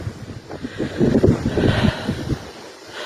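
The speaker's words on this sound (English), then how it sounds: "you can see how windy it is. Very windy." Strong wind gusts buffet the microphone in uneven rushes, swelling loudest in the middle before easing off.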